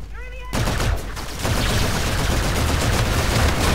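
Dense, rapid automatic gunfire in the shooter game Call of Duty: Infinite Warfare multiplayer, a continuous loud burst of crackling shots after a short quiet moment, with sharp repeated reports throughout.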